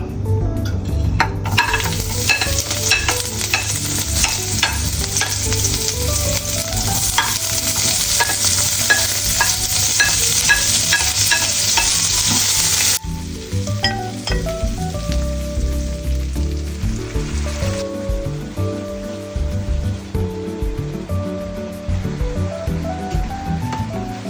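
Loud, constant sizzling of tofu frying in a pan, with occasional stirring scrapes; the sizzle drops to a softer crackle partway through.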